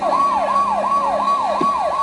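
A police car siren wails in a steady rapid up-and-down cycle, loud and close, repeating about every third of a second with no other sounds on top.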